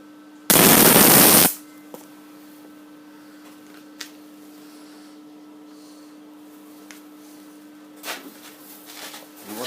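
One loud, dense buzzing burst of about a second from a spot weld on a carburettor butterfly shaft lever, then a low electrical hum with faint ticks.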